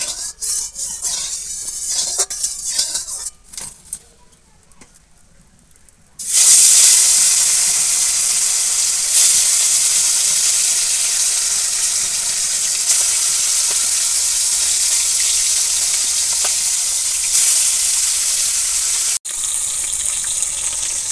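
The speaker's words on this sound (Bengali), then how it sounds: "এবার আমি কড়াইতে তেল দিয়ে মাছটা ভাজব" Fish dropped into hot oil in a kadai sets off a loud, steady sizzle that holds for many seconds after some quieter handling noises, with a brief break near the end before the frying hiss resumes.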